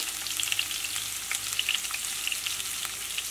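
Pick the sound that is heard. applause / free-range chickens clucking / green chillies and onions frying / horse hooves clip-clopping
green chillies and onions frying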